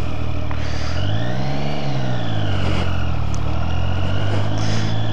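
A Triumph Street Triple R motorcycle on brand new tires pulls away in first gear, its engine note rising and falling as it revs up close and loud, with no talking.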